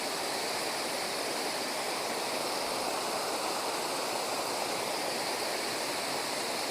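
Water pours down at Aare falls in a dense, unbroken roar that holds steady and fairly loud from start to finish.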